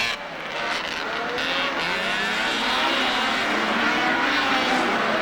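Polaris snowmobiles drag racing up a hill on a race circuit, a distant engine roar that builds steadily and holds, with no talk.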